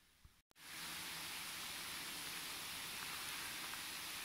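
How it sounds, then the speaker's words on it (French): Steady rain falling at the seaside makes a dense, even hiss of close drops that runs without a break after a short opening gap, with no voices over it. "c'est sympa, hein, la mer quand il pleut."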